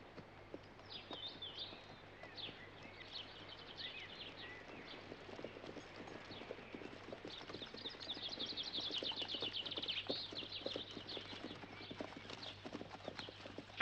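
Horses' hooves clip-clop steadily on a country road in 1968 period England, faint and somewhat distant, with birds chirping in the background.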